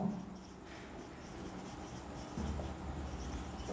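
Pen writing on a board or page during a chemistry lesson, faint continuous scratchy strokes running throughout, quiet and close, with a soft bump partway through and no talking.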